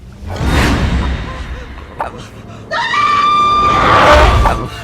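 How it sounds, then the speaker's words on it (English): A loud, piercing scream from the film Mama rises and holds near the end, preceded by a breathy whoosh and a brief thud. "hears a chilling scream and rushes downstairs to check"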